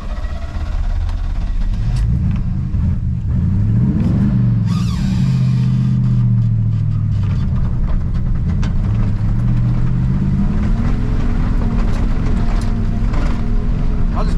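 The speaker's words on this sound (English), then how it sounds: "I think we're gonna try second to third gear pull up around that corner." A 2WD Chevy C20 truck engine revs hard and pulls through second and third gear, a loud continuous roar rising and falling in pitch as it accelerates and shifts, close by throughout.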